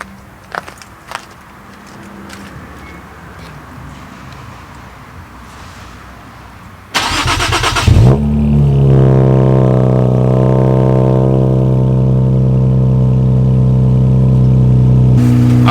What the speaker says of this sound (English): we're gonna start this video off with a nice little cold start